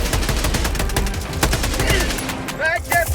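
Dense, rapid gunfire rattles without pause from a Helldivers 2 battle, loud and close, mixed with sharp impacts and a few rising electronic chirps near the end.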